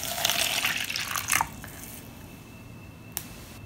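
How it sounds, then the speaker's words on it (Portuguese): Room-temperature tap water is poured into a slime mix, a splashing gush that fades after a second and a half into a faint, wet background with one small drip or click. "Vou colocar a água. Essa água aqui, gente, é da pia mesmo,"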